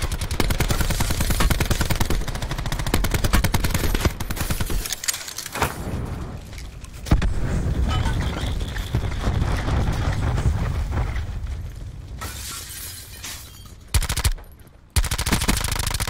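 Video game gunfire in a multiplayer shooter: dense rapid automatic bursts, loud and close, broken by brief gaps before the firing resumes, continuing throughout with no clear speech.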